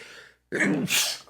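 A single sneeze during a podcast conversation: a brief breathy intake, a short pause, then a sharp explosive burst trailing into a hissy release, close and loud.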